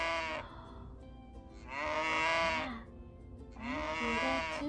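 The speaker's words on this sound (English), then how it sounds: "It's a cow." Cow mooing in long drawn-out calls, two or three clear moos separated by short pauses, close and fairly loud with nothing else heard.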